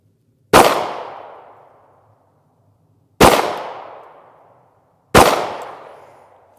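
Three loud, sharp rifle shots ring out during shooting practice, spaced a few seconds apart, each with a long decaying echo trailing into silence.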